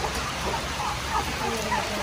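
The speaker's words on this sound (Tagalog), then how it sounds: "grabe na yung pagbuhos ng ulan" Heavy rain pours down on a countryside native chicken farm in the Philippines, a steady, dense, close hiss with no break.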